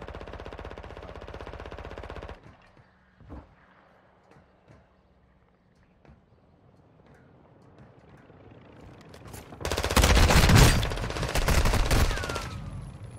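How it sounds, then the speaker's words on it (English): Bursts of automatic gunfire in the video game DMZ: a loud rattling stretch at the start, then a quiet gap with scattered faint clicks and thuds, followed by another heavy, close burst near the end. "Shots, brother."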